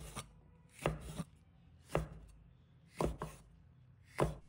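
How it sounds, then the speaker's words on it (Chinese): Red chili chopped into small pieces with a knife on a cutting board, about seven sharp, close knocks arriving in short pairs and single strikes, with quiet gaps between them. "再准备1条的红辣椒，把它切成小块。"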